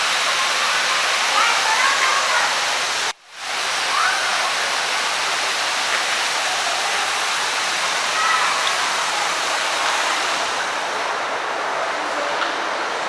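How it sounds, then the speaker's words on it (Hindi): Aquarium waterfall pouring in a steady, loud broadband rush that fills the whole stretch, with one brief dropout early on and voices faintly mixed in. "ये देखिए जो झरना का आवाज़ है वो कितना सुंदर सा आवाज़ निकल रहा है इस झरने में से"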